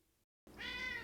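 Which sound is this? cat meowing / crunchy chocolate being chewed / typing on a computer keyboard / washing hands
cat meowing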